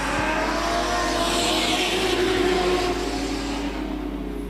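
Stock cars race in a regional event on a circuit, a dense, steady roar of several engines droning loudly and continuously with crowd-distance ambience and no clear speech.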